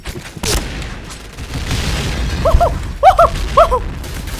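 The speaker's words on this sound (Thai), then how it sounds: "เกือบโดนระเบิดตาย" A grenade goes off in the online shooter Point Blank, a single sharp burst near the start, followed by short chirping game effects over a steady background.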